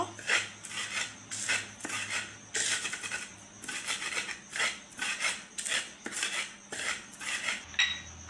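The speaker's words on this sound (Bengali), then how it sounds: "এখন আগে শুকনো মরিচগুলো গুঁড়ো করে নেব" Dried chillies being ground into powder give a rhythmic rasping scrape, repeated strokes roughly twice a second, close and steady with no talking.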